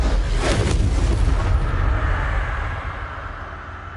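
Confringo and Incendio spell blasts in the video game Hogwarts Legacy, a loud booming burst with a fiery roar that swells in the first seconds and then fades into a decaying rumble.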